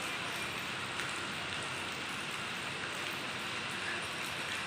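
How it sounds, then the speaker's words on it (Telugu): Heavy rain pours steadily onto surfaces during a festival season outing in Vijayawada, a dense, continuous hiss that stays loud and even throughout with no voices present. "గట్టి పడుతుంది వర్షం."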